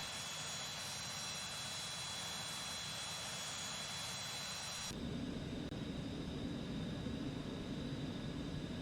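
Citation Mustang business jet engines in an X-Plane flight simulation over Southern California, a steady broadband roar throughout that shifts abruptly midway from a hissing high whine to a deeper, louder rumble, with no talking.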